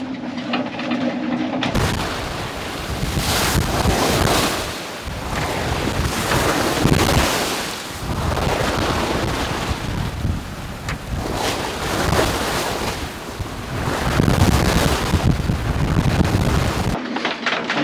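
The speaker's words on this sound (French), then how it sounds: "le vent souffle comme ça" Steady wind roaring across open sea aboard a sailboat along the Turkish coast, with waves and surf churning beneath it for the whole stretch, loud and close, no voices.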